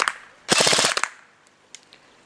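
An Xcortech X3300 BB-counting setup on a silenced airsoft replica, firing a short burst of rapid muffled pops, followed by two or three faint, spaced single shots.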